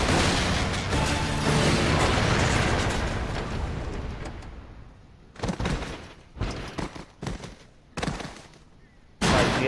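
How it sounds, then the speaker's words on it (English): Airstrike explosions and gunfire in the video game Tales from the Borderlands: a long rumbling blast that slowly fades, followed by a series of sharp bursts and a final loud hit. "Airstrike."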